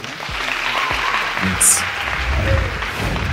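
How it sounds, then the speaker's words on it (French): Audience applause welcoming a contestant at a talent show semi-final, a steady crowd clapping with a short bright burst partway through and a voice speaking over it. "un tonnerre d'applaudissements pour Maïssa, s'il vous plaît"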